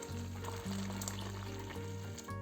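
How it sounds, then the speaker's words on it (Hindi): Oats khichdi simmers and sizzles in a pan with a steady soft frying hiss over a low hum, fairly quiet and close, with no talking. "अब इसको थोड़ी देर पकाएंगे और हमारी ओट्स की खिचड़ी बनकर हो जाएगी तैयार"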